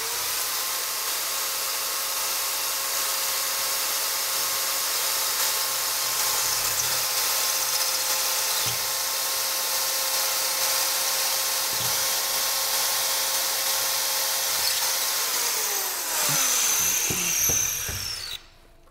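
A power drill bores into hollow-core clay brick masonry without hammer action for wall plugs, a steady high whine running for about fifteen seconds before winding down and stopping.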